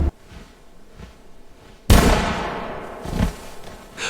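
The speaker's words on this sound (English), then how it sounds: "without warning, a single rifle crack slices through the still air" A single rifle crack bursts loudly out of a quiet winter setting and rings on in a long decaying echo, with a fainter thud later in the tail.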